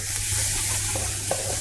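Onions soften in a hot pan with a dense, continuous sizzle and crackle, close and steady, with a couple of soft stirring scrapes over the short stretch.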